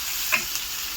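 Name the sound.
garlic sautéing in a pan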